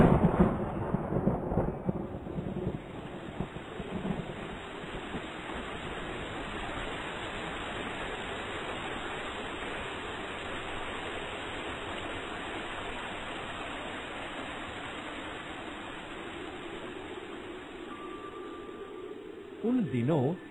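Heavy downpour over a forest, a steady broad hiss of rain lasting throughout with low rumbling and a louder burst near the start and end, moderately faint.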